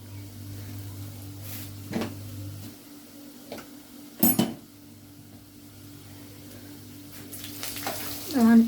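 Black pepper and paprika are stirred in a hot frying pan, with a soft sizzle underneath and a handful of brief scraping strokes and knocks of the spoon against the pan, fairly close.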